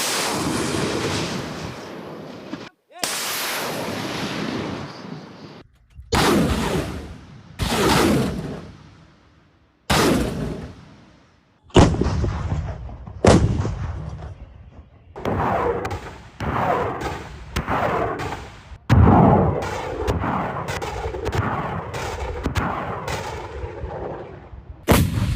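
Repeated heavy ground artillery blasts firing live rounds, each a loud booming crack with a rolling rumble, fired at irregular intervals with brief gaps between.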